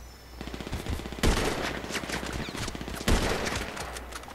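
Video game gunfire in GTA 5 Online, with a fast string of rattling automatic-style shots and two heavier, louder blasts standing out, dense and continuous with no talking over it.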